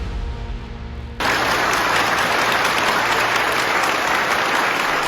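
A grateful community applauds as an injured police officer is released from the hospital, steady broadband clapping bursting in after about a second and holding loud and dense to the end, with no talk over it.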